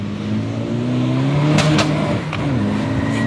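A VW Golf Mk6 GTD with a modified exhaust revs loudly close by, the engine note rising and falling steadily, with a few sharp crackles and pops cutting through the drone.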